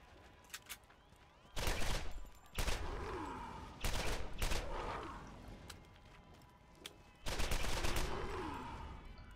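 Gunfire from a weapon in a video game, several bursts of rapid shots spread over a few seconds amid a low background game soundscape, fairly faint overall.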